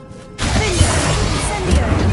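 A Revelio spell cast in the video game Hogwarts Legacy: a whooshing, shimmering magical burst swells in after a quiet start and holds as a dense, sustained wash of sound.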